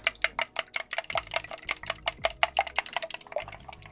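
A utensil whisks eggs, heavy cream and mayonnaise in a bowl with quick, steady, rhythmic taps against the sides, close and clear, with no talking.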